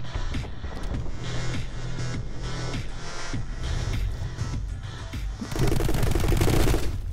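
Rapid automatic weapon fire in a video game, loud and sustained, with bursts of shots running back to back and a harsher, denser volley near the end.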